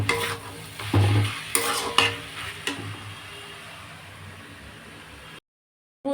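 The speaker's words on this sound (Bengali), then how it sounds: "এই পেঁয়াজ টেয়াজ দিয়ে একবারে সুন্দর করে কিন্তু আমি ভেজে নেবো" Fish head fries with onions in a pan: a steady sizzle, with a few sharp scrapes and knocks of stirring near the start that give way to a quieter, even frying hiss.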